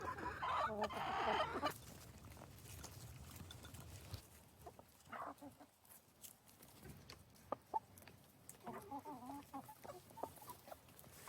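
Backyard hens clucking and muttering close by, a loud burst of squawking at the start, then scattered soft clucks and calls with quiet pauses between them.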